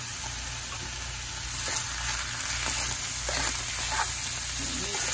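Taco filling with cream cheese and salsa sizzles in a hot pan while being stirred, with soft scraping and bubbling throughout at a fairly quiet level.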